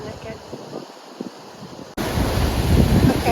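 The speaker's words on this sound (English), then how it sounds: "The force of the water closed that gate shut." Water rushing through a canal lock on the River Avon as the force of the flow pushes the gate shut, a steady wind-buffeted roar that jumps louder and fuller partway through.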